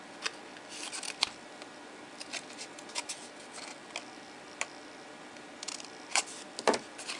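Scissors snipping the petals of a paper flower, faint separate clicks and cuts scattered irregularly over a quiet hiss, with no talking.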